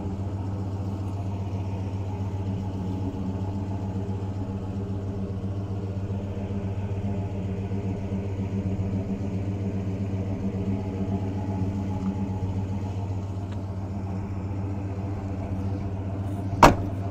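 1968 Pontiac GTO with a 400 V8 and Flowmaster dual exhaust idling, a deep, steady low rumble held close throughout, with a sharp click near the end.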